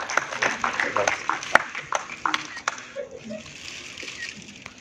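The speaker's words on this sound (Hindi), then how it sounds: "जोरदार ताली" Applause from an audience at a children's tabla recital in Gurugram, brisk scattered claps mixed with a speaker's voice that thin out partway through, leaving murmur and talk.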